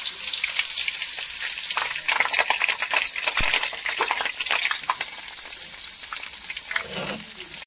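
Onions frying in a hot pan, dense continuous crackling sizzle with occasional stirring scrapes, close and steady, no talking.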